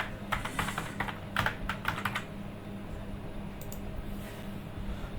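Password typing on a computer keyboard while logging in to a Palo Alto firewall captive portal: clusters of quick close keystroke clicks in short bursts, separated by pauses, over a steady low room hum.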